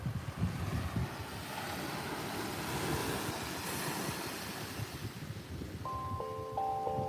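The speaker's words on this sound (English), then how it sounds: "And the sounds of the ocean and just the sounds of the steel drum are just amazing" Ocean waves wash steadily in the background alongside wind buffeting the microphone, a continuous broadband rush with a few soft metallic tones near the end.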